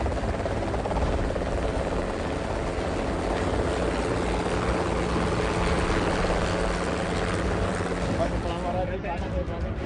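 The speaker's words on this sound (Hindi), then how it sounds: "हेलीकॉप्टर उड़ा" Steady, loud rotor and engine roar of a nearby helicopter taking off, continuous throughout with a crowd murmuring underneath at a political rally.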